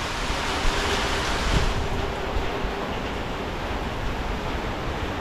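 Strong typhoon wind roars steadily with a broad rushing noise, heavy buffeting against the microphone and a constant surf-like hiss, with no voices.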